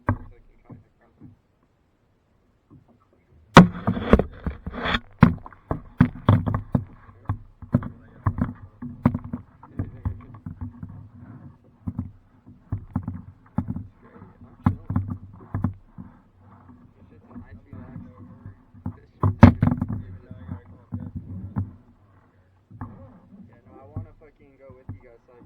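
A kayak is paddled on water, with irregular soft knocks, splashes and hull thumps that come close and fairly loud at times. People talk intermittently throughout.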